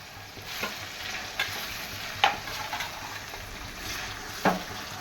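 Cinnamon and dry chillies frying in oil for palak paneer are stirred with a steady sizzle, while a spoon scrapes and taps against the pan a few times, close and clear.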